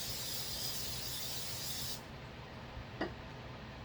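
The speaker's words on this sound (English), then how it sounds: "let me get the cooking spray" Cooking spray hisses steadily into a crockpot in a continuous close burst of about two seconds, then cuts off, leaving quiet room tone and a single small click.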